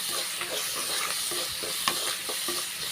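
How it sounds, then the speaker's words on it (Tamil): Onions sauté in a hot pan for a brinjal kootu, giving a loud, steady sizzle broken by repeated close stirring scrapes, with no talking. "வெங்காயம் வந்து நல்லா வதங்கிக்கிறட்டும்"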